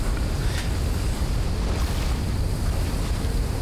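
Rushing sewer water in the video game Trine 2, a dense, steady wash of turbulent flow with a roaring, surf-like texture, loud and continuous with no voices.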